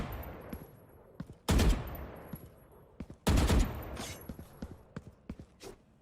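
Two short bursts of rapid gunfire from Valorant shooting practice, each about a third of a second and sharply louder than the quiet game ambience, separated by faint clicks and footsteps.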